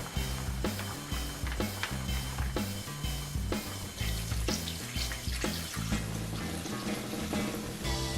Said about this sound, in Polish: I razem zalejemy wodą.